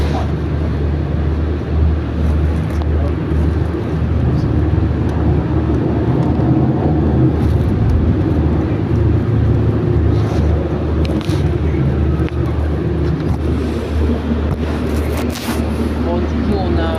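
Steady low engine drone and rolling road rumble from inside a Mercedes-Benz Citaro GC2 NGT natural-gas bus with a Voith gearbox on Tisséo line L14, with faint voices at times.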